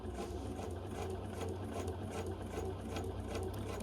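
A Bernina 770 sewing machine runs at a steady, even hum, sewing continuously at a faint level.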